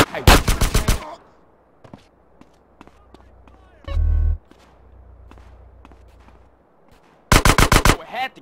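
GTA San Andreas gunfire comes in two loud rapid automatic bursts at the start and end, with scattered shots, footsteps and a low rumble in between.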